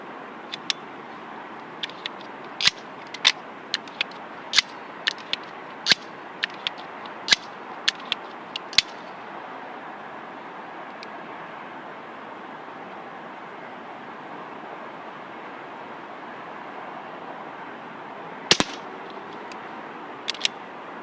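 A Crosman air pistol fires a handful of sharp, snappy shots at a backyard target, each a brief crack spaced a few seconds apart, with quiet ambience between and one more pop later.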